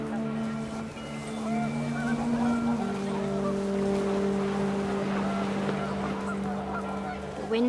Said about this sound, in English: The wind picked up, and panicked geese appeared and quickly went.